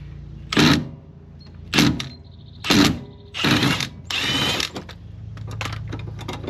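A ratchet socket wrench turns a bolt on a first-generation Chevy II Nova in five distinct bursts of rapid clicking, each lasting about half a second, close by with short pauses between.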